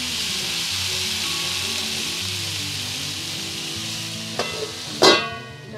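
Bottle gourd curry frying in a pan over a medium flame, a dense steady sizzle close up, ending with a couple of sharp clatters as a lid or spoon touches the pan.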